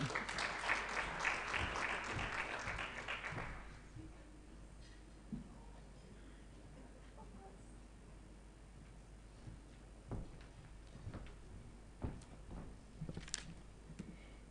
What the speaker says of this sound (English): Another round of applause for Claudette.